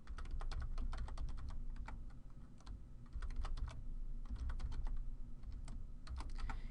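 Rapid keystrokes clatter on a computer keyboard while an email address is entered, close and steady bursts of clicking with short pauses between groups.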